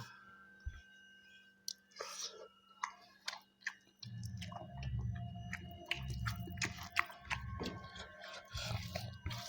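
Close, wet chewing and munching of poori with egg gravy curry, with soft smacking bites and squishy mouth sounds repeating steadily, louder and denser in the second half.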